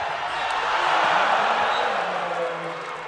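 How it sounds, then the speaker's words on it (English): Crowd noise at a U.S. Open wrestling final, a 65 kg bout between Joseph McKenna and Nick Lee: a dense, sustained roar of cheering swelling near the middle and easing slightly toward the end, with faint voices underneath. "This crowd's nuts"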